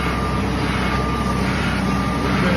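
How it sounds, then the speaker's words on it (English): Truck reversing alarm on a construction site near an excavator, a steady high electronic tone over a loud, continuous diesel engine rumble, with no talk. "Here's the backup alarm."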